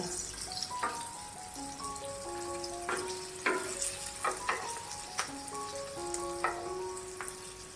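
Stuffed green chillies shallow-frying in oil over a low flame, with a soft steady sizzle and sharp pops and crackles that stand out now and then, recorded close up and without speech.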